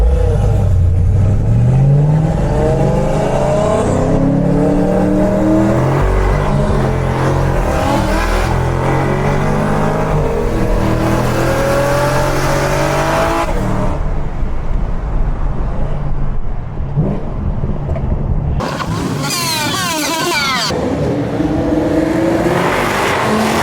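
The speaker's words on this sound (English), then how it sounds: "I'm gonna be racing this Toyota Supra here that's making 700 wheel." A 650 hp Camaro ZL1 races a Toyota Supra making 700 wheel horsepower, their engines roaring loudly and climbing in pitch through hard acceleration. The sustained, close engine noise rises again and again as they shift through gears.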